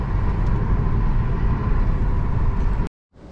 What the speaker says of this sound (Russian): Совсем по-другому море шумит.